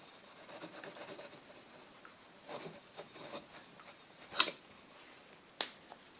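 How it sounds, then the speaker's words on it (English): A cloth with polish gives a chrome-finished plastic part a quick rub, soft close scrubbing strokes followed by two sharp, brief taps or squeaks near the end, quiet overall. "Let's just see where we've got to after that quick rub down"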